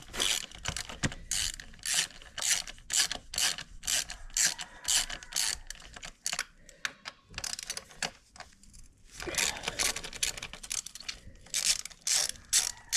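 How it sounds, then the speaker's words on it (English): A ratchet wrench clicks repeatedly while backing out the 5mm hex head bolt on the rear brake caliper of a Kayo KMB 60 dirt bike, with rhythmic close pawl clicks in quick strokes and a brief pause partway through. "taking this off, this is a 5mm hex head for the rear caliper"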